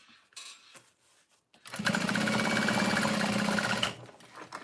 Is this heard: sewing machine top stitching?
yes